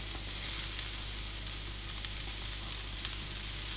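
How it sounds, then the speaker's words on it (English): Onions frying in a pan for a steak sandwich, a steady close hiss of sizzling oil running throughout with no pauses and no voices. "I'm going to fry those and get them caramelized a bit"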